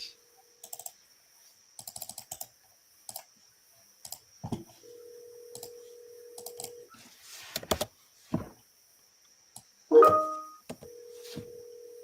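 Dialing out on a telephone in a busy office call room: quiet scattered keypad taps and beeps, a couple of short steady tones and a brief ring burst, with no talk.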